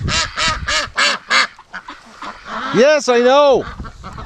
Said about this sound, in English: the ducks get all excited when I come into the pen. You can hear them quacking